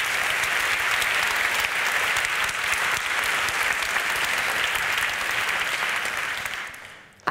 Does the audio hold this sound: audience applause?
yes